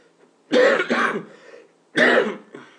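Two harsh coughs, close and loud: a double cough followed by a single one after a short pause.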